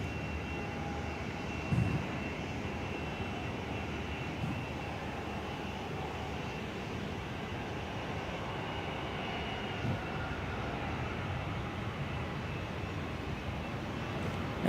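Qatar Airways jet in retro livery arriving at Perth, a steady, fairly faint broadband jet roar held at a distance throughout, with no speech.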